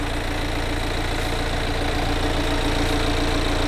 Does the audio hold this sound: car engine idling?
yes